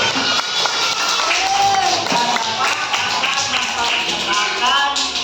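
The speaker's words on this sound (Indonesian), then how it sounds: "Tepuk tangan dulu." Lively applause from a crowd of schoolchildren in a classroom, dense clapping with some excited voices and cheers mixed in, sustained throughout.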